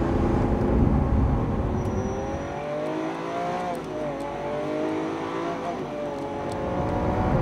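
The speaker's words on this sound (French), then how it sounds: "On a un V12 à l'arrière, 50 chevaux de plus que l'Aventador classique, 750 au total." A Lamborghini Aventador SV's rear-mounted 750-horsepower V12 roars loud and close, its engine note sweeping up and down through repeated revs with a steady, dense rumble underneath.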